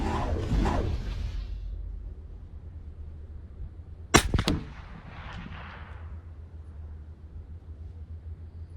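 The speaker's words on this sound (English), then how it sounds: "we're going to shoot center" A single sharp rifle shot from a Bergara B14R fired at a 200-yard target outdoors, loud and close, followed by a rolling echo and faint distant rumble, with quiet wind noise before and after.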